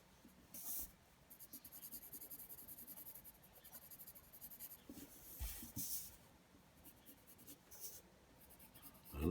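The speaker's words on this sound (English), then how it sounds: "I'm drawing a little shading." A pencil makes short, quick shading strokes on paper while drawing a bison, a soft close scratching in irregular bursts with brief pauses between them.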